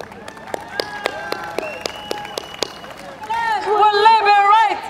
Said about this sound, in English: Could we thank all the speakers once again with a loud round of applause?